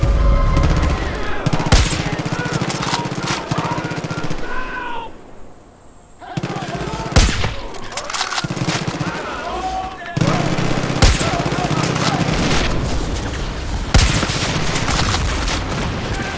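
Bursts of gunfire from the video game Far Cry 5, rapid automatic volleys and single loud shots with booms, played in co-op with short pauses and a brief lull midway, while players talk over it.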